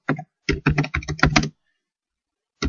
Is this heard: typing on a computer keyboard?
yes